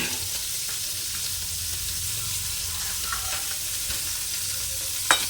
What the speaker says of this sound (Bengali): এদিকে মাছের মাথা ভাজা হচ্ছে, মাছের মাথা দিয়ে মুসুরির ডাল।